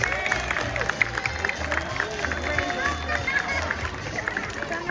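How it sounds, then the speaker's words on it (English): An aquarium crowd at a sea lion show in Riverhead, New York, applauds steadily as a sea lion returns to the stage, with music and a voice mixed in underneath throughout. "let's give her a round of applause and welcome her back to the stage"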